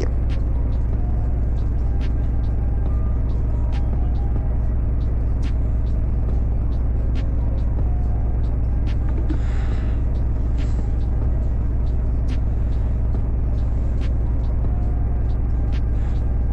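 Car engine in the video game Car Dealership Tycoon, a loud, steady low rumble and drone running throughout, with faint clicks and a brief hiss partway through, no talking.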